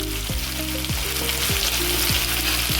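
Loud, close sizzling of prawns frying in hot oil, a dense crackling hiss with a spatula scraping the pan in regular strokes.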